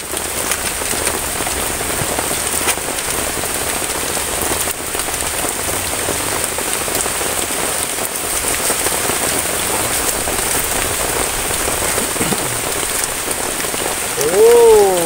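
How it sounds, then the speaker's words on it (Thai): Rain falls in a forest during a thunderstorm as a steady, loud patter on nearby surfaces. A voice is heard briefly near the end. "บรรยากาศฝน"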